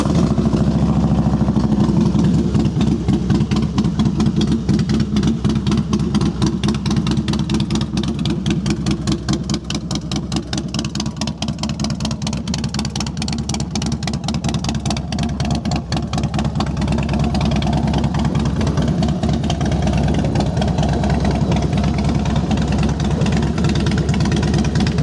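A used Harley-Davidson Heritage Softail Classic FLSTCI with 66,234 miles idles steadily and close, its big V-twin giving a loud, even, rapid lumpy pulse with no talking over it.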